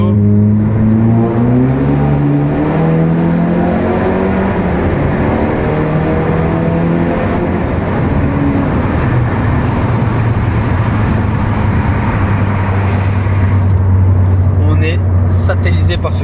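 A car engine drones steadily at speed, low and continuous throughout, with a sustained pitch that shifts and climbs as it drives fast; no voices are heard.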